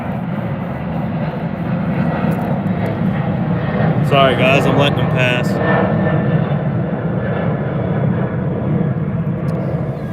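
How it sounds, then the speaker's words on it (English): Airplanes pass overhead above a lakeside bass and catfish fishing spot, a steady loud engine roar that fills the whole stretch while someone talks briefly over it. "there's a lot of planes today"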